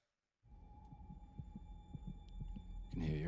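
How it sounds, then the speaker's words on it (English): A heartbeat sound effect from a She-Hulk episode thuds in a steady, fairly quick rhythm over a low hum, with a louder burst of sound closing the moment. "Your heart's beating pretty fast."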